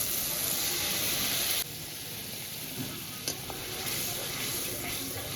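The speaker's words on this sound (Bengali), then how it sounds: "এই পর্যায়ে আলুগুলো দিয়ে দেবো। এগুলো দিয়ে মশলার সঙ্গে বেশ সময় ধরে একটু কষাবো।" Potatoes fry in spices in a pan, sizzling and hissing steadily up close, with a few stirring scrapes and a sharp drop in sizzle partway through.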